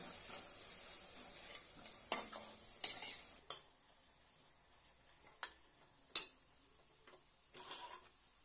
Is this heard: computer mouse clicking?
no